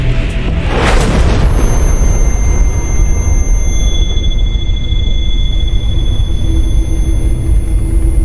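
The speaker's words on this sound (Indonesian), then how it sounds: "militer Rusia sudah mulai membombardir pabrik baja yang telah kosong" A heavy bombardment blast in a war film about Russian forces shelling an abandoned steel plant, a loud boom followed by a sustained, roaring rumble that fills the whole stretch.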